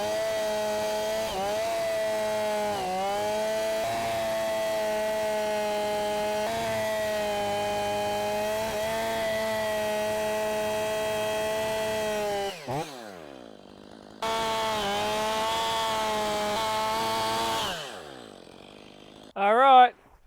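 Chainsaw freehand milling through a partly rotten deadwood log, a loud steady whine under load for about twelve seconds, then a brief pause, another cutting burst, and a short rev at the end.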